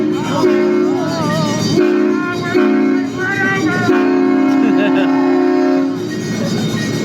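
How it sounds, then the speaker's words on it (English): A train passing a crossing on a Los Angeles haunted hayride blasts its loud, sustained multi-tone horn in long repeated blows, with voices audible underneath. "The train."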